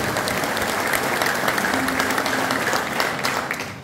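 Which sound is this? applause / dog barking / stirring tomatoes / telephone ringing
applause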